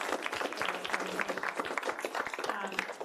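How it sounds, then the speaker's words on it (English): Short burst of audience applause for census speakers at a demographic conference, a modest crowd clapping quickly and fairly quietly, with the hall's murmur underneath. "Big round of applause for our census colleagues."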